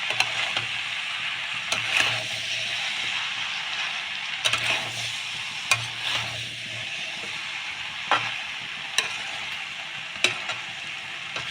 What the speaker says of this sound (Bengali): ছোলা মশলাটা দিয়ে আরেকটু ভালো করে কষিয়ে নিতে হবে।